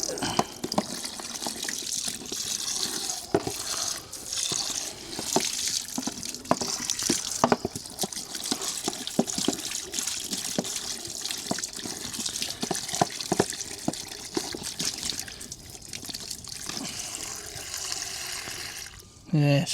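Water runs steadily from a tap while a garden bird water container with algae is cleaned out, a continuous close splashing wash with scattered drips and sharp clicks, and someone speaks over it now and then.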